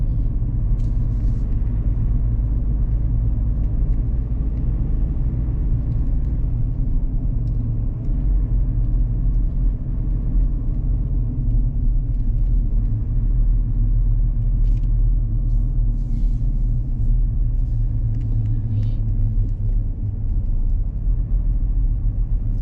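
A vehicle ridden around the area near Sam Neua airport in Laos gives a steady, loud, low rumble of engine and road noise that runs unbroken from start to end, with no voices.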